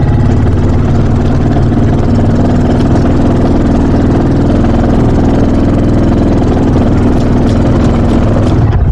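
A Mule utility vehicle strains in low gear with all four wheels slipping while cutting a dead ash tree, its loud mid-pitched engine droning steadily and labouring with little change in pace.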